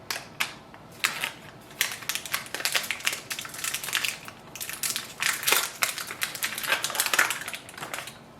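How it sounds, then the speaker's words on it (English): HP 67 ink cartridges are pulled from their plastic packaging, giving close, irregular crinkling and sharp crackling bursts with brief pauses between handling moves. "Now take the ink cartridges out of the plastic packaging."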